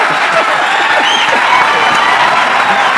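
An audience at a meet-up event applauds in dense, steady clapping that runs loud and unbroken throughout, with no voices cutting through.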